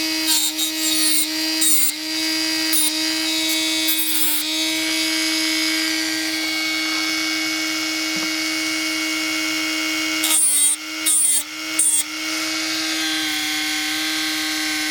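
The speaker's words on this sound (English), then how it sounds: "I'm going to use my wheel and a grinding wheel and various other tools to clean it up" A motor-driven grinding wheel cleans up the metal chassis of a Micro-Trains N scale SW1500 locomotive, giving a steady high whine with brief bursts of harsher grinding as the tool bites into the frame. No one speaks.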